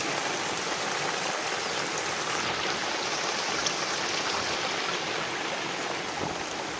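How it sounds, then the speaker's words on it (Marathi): Rain falls in a constant, even hiss, a steady wash of water sound with no voices, during fishing in a flooded rural stream. "पाऊस बघा किती पडतो"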